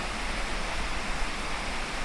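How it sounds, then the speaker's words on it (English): A waterfall on the Foothills Trail roars steadily as a broad, even rush of falling water, close and constant with no voices. "So here's the waterfall."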